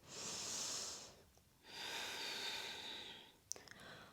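Breathing during a yoga flow: two long, airy exhales separated by a pause, close and soft, followed by a brief sharp snort-like breath.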